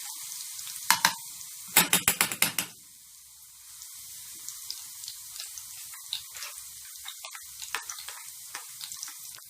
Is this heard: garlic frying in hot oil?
yes